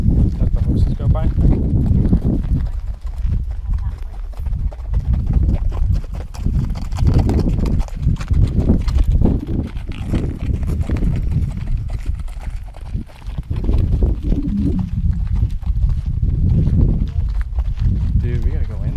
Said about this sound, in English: Let the horses go by?